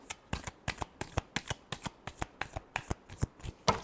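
Tarot cards shuffled by hand in quick rhythmic riffles, a dozen or so sharp papery bursts in steady succession, close and clear with no talk.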